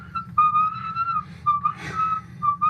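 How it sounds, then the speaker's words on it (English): A person whistles a short tune from My Singing Monsters, a few wavering sustained notes in bursts, close and clear, with a brief breathy noise in the middle. "Dude, you forced me to whistle."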